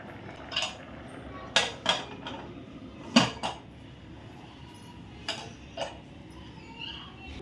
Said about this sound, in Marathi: आता मी हे कुकरचं झाकण ह्याला लावते